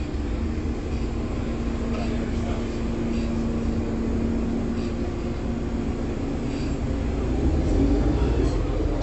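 Steady rumbling drone of an airport shuttle bus carrying passengers between terminals at a Paris airport, with a constant engine hum and faint rattles throughout.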